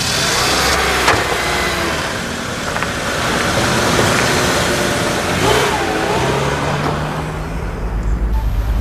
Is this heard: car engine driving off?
yes